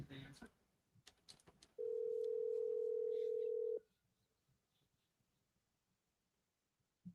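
A steady telephone dial tone plays for about two seconds as a call is placed to New York, preceded by brief clicks and followed by quiet line noise and a faint click at the end.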